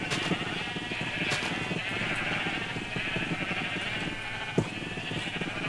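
Sheep bleating in the video game Minecraft, a few short bleats heard over a steady bed of continuous game background noise, with no talking.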